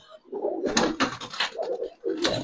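Giribaz and coloured pigeons coo at close range in soft, throaty bursts, broken by sharp flurries of wing fluttering as the restless birds move about.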